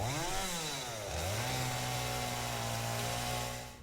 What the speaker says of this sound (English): I might want to real quick get my chainsaw.